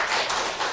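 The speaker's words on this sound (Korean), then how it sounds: "환영의 박수 부탁드립니다" A church congregation claps in welcome for a newcomer, a short burst of dense, even applause throughout.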